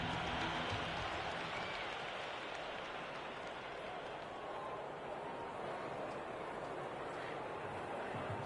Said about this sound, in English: The crowd is electric right now.